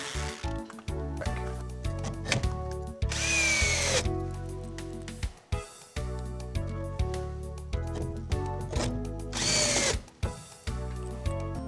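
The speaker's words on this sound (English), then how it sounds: "Now it's time to drill our first course of Novabrik at the furring strips." A power drill drives screws through Novabrik siding into furring strips, with repeated loud whirring bursts that rise and stop, separated by short pauses and handling clicks.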